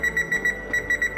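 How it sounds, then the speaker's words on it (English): Oven timer being set: a run of short, high electronic beeps in pairs at a steady pace, close and clear, with no talking over it. "we're going to go ahead and set the timer."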